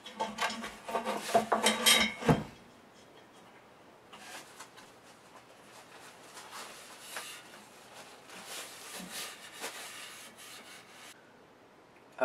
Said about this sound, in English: I'm going to use some Triple O steel wool to rough it up a little bit